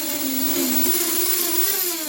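Motors of an Eachine Falcon 210 Pro racing drone spinning on the bench, a steady high whine with gliding tonal pitches and buzzy overtones, close and continuous with no talk.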